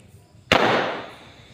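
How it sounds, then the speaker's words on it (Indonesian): A modified Roman candle firecracker made from three combined into one goes off with a single sharp, loud bang followed by a long fading crackling roar. "Ini adalah mercon Roman Candle yang dimodif, yaitu 3 mercon Roman Candle digabung menjadi 1."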